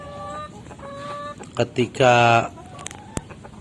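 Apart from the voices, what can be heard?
laying hens clucking while drinking medicated water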